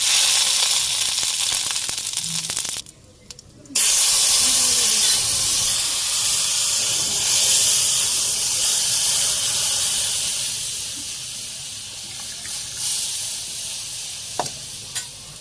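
Bay leaf, five-spice, dry chilli and ginger paste going into hot oil, a loud continuous hiss and sizzle close by, with a brief dip near the start and a tapering finish.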